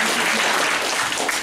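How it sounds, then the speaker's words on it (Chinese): Audience applause in a lecture hall, a steady dense wash of clapping from many hands that fills the whole short stretch at a fairly loud level, with no voices standing out. "大家这边掌声，谢谢他们。"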